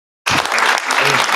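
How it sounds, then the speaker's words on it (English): Sudden burst of audience applause at a panel discussion, starting abruptly after a short silence and continuing as dense, close clapping, with a voice faintly under it. "just a round of applause for Cynthia"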